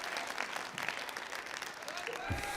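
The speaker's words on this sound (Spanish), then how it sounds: "Esperaré a que dejen de aplaudir." Audience applause during a Spanish-language faith speech, a dense steady wash of clapping from a crowd that holds for the whole stretch at moderate loudness, with faint voices mixed in.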